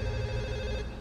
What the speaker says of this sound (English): And now there's even like a phone call interrupting me.